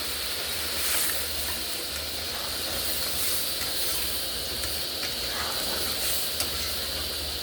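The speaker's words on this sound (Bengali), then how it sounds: "এবার ডালটা আমি ঢেলে দিলাম।" Boiled chana dal hits hot spiced oil in a pan, setting off a steady, moderate hissing sizzle that continues evenly throughout.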